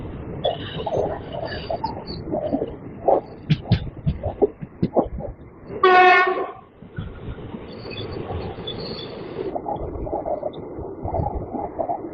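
Train running on the line near Nagercoil Junction, a rumbling rail run with clattering wheel knocks and a loud tonal horn-like blast midway, fairly close and continuous.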